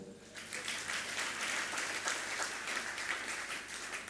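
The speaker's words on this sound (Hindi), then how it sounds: "बोलो, इतनी ठंडी सी बात, तालियां तो बजाओ" A seated audience at a Jain religious discourse in Barwani, Madhya Pradesh breaks into applause, a steady crowd of hands clapping at moderate volume for several seconds without talk.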